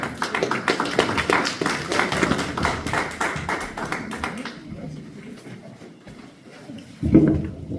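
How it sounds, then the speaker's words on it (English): An audience claps with brisk, dense hand taps that fill the first half, then thin out and fade to scattered claps and room murmur, with a brief loud bump near the end. "can we give her another hand clap?"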